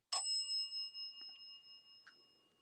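One bright ring from a small bell among the haunted objects of a gallery. It rings out clearly in a quiet room and fades slowly, with faint taps after it.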